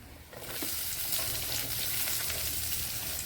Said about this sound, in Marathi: आता कांदा टाकते